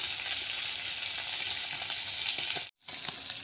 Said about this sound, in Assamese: এইখিনি পনীৰ ভাজি আছোঁ